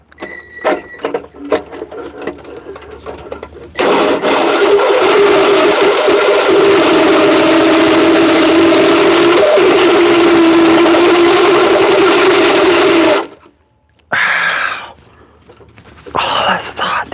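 A power drill whines steadily for about nine seconds while drilling upward on a solar panel project in 106°F heat, loud and continuous, with brief clicks and muffled sounds before and after.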